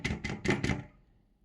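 A container of cornflour-thickened watermelon pudding shaken to level it, producing four quick, close knocking thumps in a row that then fade into quiet.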